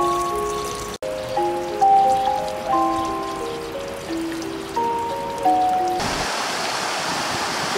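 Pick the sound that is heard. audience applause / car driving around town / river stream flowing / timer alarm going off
river stream flowing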